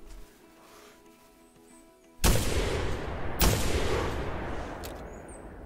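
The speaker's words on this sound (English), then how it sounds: "I think the second shot should have hit him" Two sharp loud shotgun blasts from a 12 gauge semi-auto in the hunting game theHunter ring out about a second apart, each trailing into a rumbling echo after a quiet ambient stretch.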